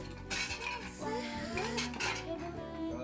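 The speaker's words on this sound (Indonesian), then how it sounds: "Dit, tolong ambilin piring-piring dong." Plates, bowls and cutlery clatter and clink continuously at a family dinner table where soup and chicken are served, busy close-up dish noise throughout.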